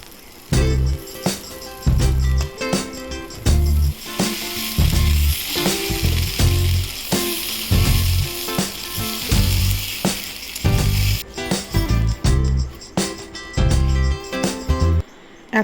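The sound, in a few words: cumin seeds sizzling in hot oil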